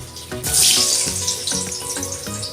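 Potato pieces dropped into hot oil in a karahi for Kashmiri aloo dum give a sudden loud hiss that settles into a steady sizzle, with background music playing throughout.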